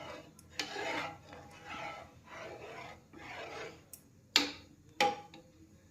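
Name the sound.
stirring milk in a pot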